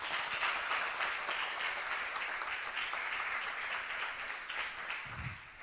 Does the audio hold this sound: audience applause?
yes